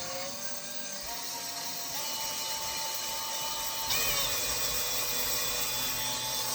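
Steady whine of a power drill running continuously, with its pitch stepping up a few times as the speed rises, close and fairly loud with no talk.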